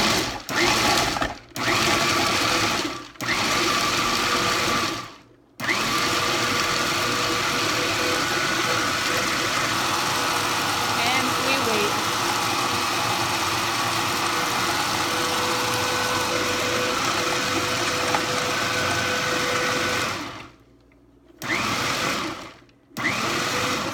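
A small, loud, whirring food processor pulses ingredients for chocolate almond energy bites in long bursts with short pauses between pulses, motor buzzing close by with no talking.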